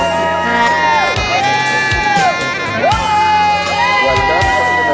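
An outdoor crowd at a community sports day cheers and whoops for runners, with children's shouts mixed into a steady, lively roar that swells and fades in waves under an announcer's voice.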